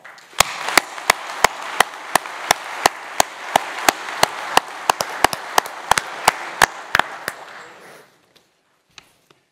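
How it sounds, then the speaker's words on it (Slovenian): Audience at an engineering day event claps together in slow, evenly spaced rhythmic unison over a bed of scattered clapping, then stops abruptly, leaving a few isolated late claps. "Jaz mislim, da lahko temu dnevu, 4. marcu, vsi skupaj zaploskamo."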